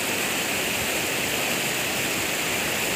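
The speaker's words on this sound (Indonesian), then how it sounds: "Ini sekarang lagi banjir lahar hujan, Mas Bro ya." Rain-triggered lahar flood from Semeru surging beneath the Gladak Perak bridge, a steady dense roar of rushing water and debris filling the whole clip at close range with no voices.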